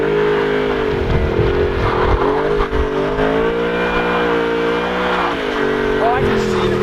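An Audi R8 on fresh tires does donuts on ice, its engine revving loud and close in continuous sweeping waves as the car spins, with voices talking over it.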